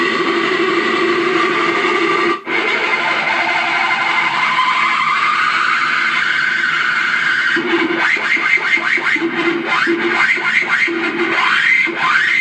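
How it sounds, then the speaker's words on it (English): An analog mixer feedback loop routed through a flanger pedal, producing a steady droning tone whose pitch glides slowly upward, then breaks into rapid, repeated swooshing sweeps that rise and fall, loud and alone. "You can still hear the flange go through its full sweep, but now it's affecting how this pedal reacts with itself"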